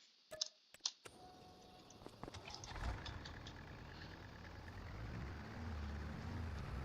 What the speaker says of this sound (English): the only thing with this tractor is kind of noisy